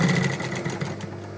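A sewing machine stitches a round-bottom fashion purse with a steady, close, buzzing mechanical run, continuous and fairly loud throughout with no talking.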